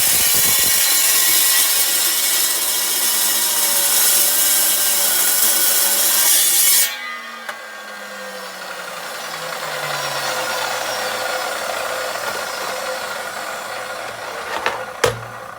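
A saw cuts through a metal piece on a sturdy table, a loud continuous grinding rasp that stops abruptly midway, leaving a fading whine and a couple of faint clicks.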